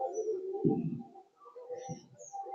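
Pigeons at a farm, a pair of high-flying birds, giving low soft coos close by, two gentle rounded calls in a quiet setting.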